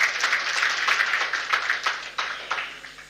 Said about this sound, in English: Yes, we should clap to that because we should.